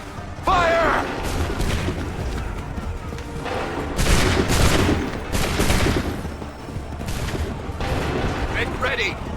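Musket volleys in the video game Assassin's Creed III, several sharp cracking bursts of gunfire and booms spread across the scene, mixed with shouted battlefield voices and background noise.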